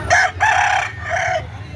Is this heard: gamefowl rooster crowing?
yes